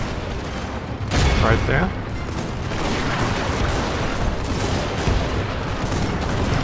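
Volleys of gunfire from steam-era units in a Medieval 2 mod battle, a dense crackling roar that swells after a sharp opening burst and keeps rumbling, while a person talks briefly.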